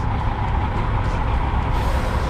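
Truck cruising on an Oregon highway at about 65 miles per hour, giving a loud, constant engine and road rumble with tire roar and wind noise heard from inside the cab.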